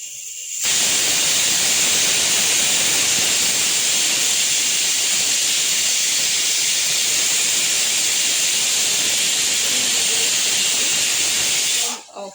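A pressure cooker cooking chicken biryani vents steam in one loud, steady hiss that lasts about eleven seconds, then cuts off abruptly.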